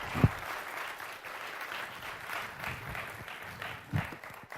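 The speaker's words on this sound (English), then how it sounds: "Can I have a massive round of applause" An audience at a church talk gives a burst of applause, moderately loud, with steady clapping that continues throughout.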